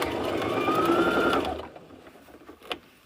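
A sewing machine stitches a boxy bag in a tight, steady whir for about a second and a half, then stops, leaving quiet room tone and a small click.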